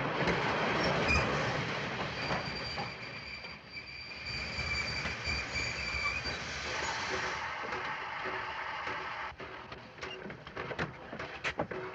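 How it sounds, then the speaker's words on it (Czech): Railway train braking to a halt after the emergency brake is pulled, with a sustained rumble and grinding wheel noise plus thin squealing tones, and scattered clanks and knocks as the carriages settle. "Tenhle voják zatáhl za záchrannou brzdu."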